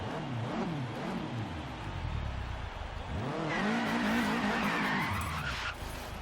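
A Subaru WRX STI with all-wheel drive driven in Forza Horizon 3, its engine revving up and down continuously with rising and falling pitch, tires squealing through slides, loud and close with no talk.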